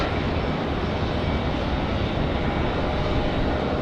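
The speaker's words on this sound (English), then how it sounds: "Up next, we've got JetBlue 726 coming in from Fort Lauderdale" A JetBlue airliner arriving from Fort Lauderdale comes in to land at Raleigh-Durham International, filling the air with a steady, broad jet roar that stays even throughout, with no talk.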